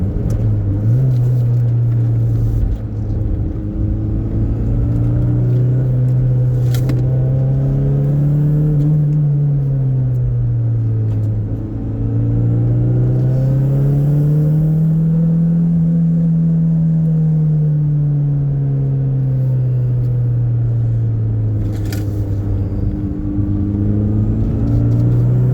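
A Toyota MR2 engine drones steadily on the winding mountain road of the Tail of the Dragon, its pitch rising and falling smoothly with the throttle, loud and continuous throughout.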